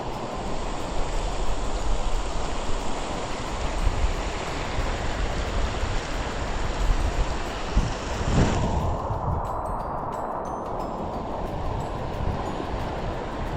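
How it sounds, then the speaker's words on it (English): Chilly water in the Lac Cha River rushes in a constant, close, hissing wash during a swim, and partway through the sound turns duller and more muffled. "So we're taking our swim in the Lac Cha River."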